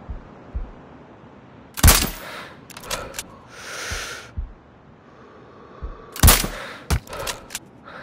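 Powerful Sturm Precision Rifle sniper shots in Sniper Ghost Warrior Contracts, two loud sharp cracks several seconds apart with echoing tails, separated by quieter bolt and handling clicks and breathy hiss.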